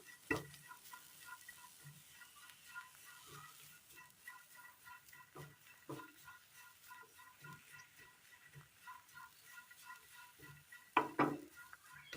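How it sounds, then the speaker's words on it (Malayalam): A spoon stirs chopped carrots in a pan on a Kerala-style dish, with intermittent scraping and clacking strokes over a faint background sizzle, ending in a louder scrape. "ഇളക്കി കൊടുക്കാം"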